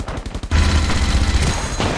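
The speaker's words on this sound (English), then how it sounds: "Why you shooting me, mi amigo?" Gunfire in the mobile battle royale game Rules of Survival: a rapid burst of shots, then a loud, dense volley that keeps rattling close by for the rest of the moment.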